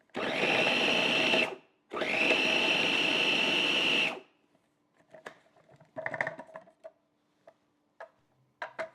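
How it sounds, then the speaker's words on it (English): A food processor whirs loudly as it blends flour and butter for pastry, running in two steady bursts with a short pause between, then stops, followed by light clicks and knocks of the lid and bowl. "Now I'm using a food processor"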